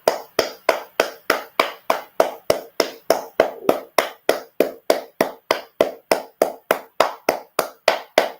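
Clapping at a gathering about Nigerian President Bola Tinubu: a steady run of about thirty sharp, evenly spaced claps, three or four per second, close and crisp with short decays, no voices over it.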